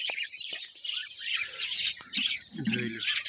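Cockatiels in a breeding cage chirp repeatedly, bright close tweets in uneven bursts with a few lower squawky calls near the end.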